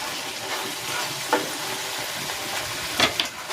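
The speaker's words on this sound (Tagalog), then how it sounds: "pakuluin natin ito hanggang sa lumapot yung gata" Coconut milk simmers with galunggong fish in a pan, giving a steady bubbling sizzle. A few sharp stirring clatters break through near the end.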